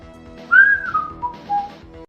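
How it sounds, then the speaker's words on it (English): Melodic whistling in The Ur-Quan Masters video game, a clear tune of several sliding and held notes over a quiet low background drone, fairly close and alone. "stop whistling, Scryptar. You don't do that"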